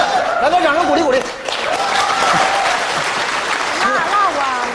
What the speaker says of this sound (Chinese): 来个掌声鼓励鼓励。